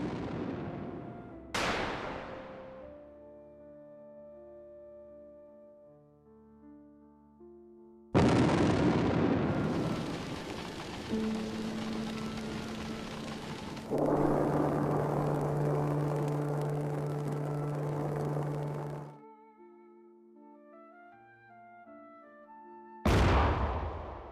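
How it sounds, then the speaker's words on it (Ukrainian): Several sudden loud blasts, each with a sharp onset and rumbling decay, separated by stretches of sustained roaring noise and low tonal hum. "Потім вибух."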